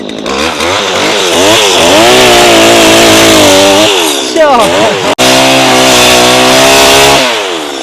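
An extendable powered pole saw cuts tree branches about twenty feet up, its small engine whining loud and close with rising and falling revs, then holding a steady high drone through the cut, briefly cutting out and resuming.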